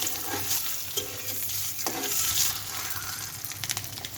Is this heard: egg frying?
yes